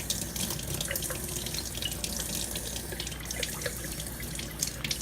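Tap water running steadily over broccoli sprouts being rinsed in a jar, a close, continuous splashing stream with small drips and sloshes throughout.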